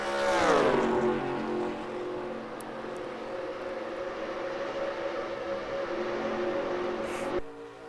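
Race cars in a video game roar around the Brickyard with a loud, sustained engine drone. A car sweeps past at the start, the tone falls, and the drone holds steady before cutting off sharply near the end.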